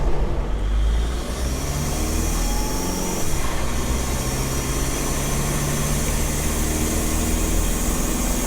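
A diesel-swapped Jeep TJ Wrangler labors up a long hill. Its engine gives a steady, loud low drone with road rumble throughout, and no voices can be heard.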